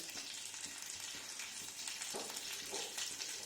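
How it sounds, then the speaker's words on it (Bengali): Garlic and black cumin sizzle steadily in a little oil, a close, continuous crackling fry that stays even throughout with no voices. "দিয়ে আমি ভাজবো খুব অল্প তেলে"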